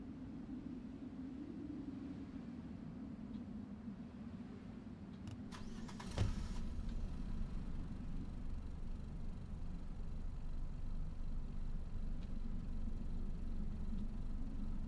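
In a video game, a car engine turns over partway through with a short starter burst, then settles into a steady low idle hum that holds to the end, fairly faint with no talk.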